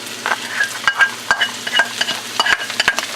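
Garlic and fresh ginger sizzle in hot oil for an Indian curry while a utensil scrapes and stirs them around the pan in quick, repeated strokes, close and loud.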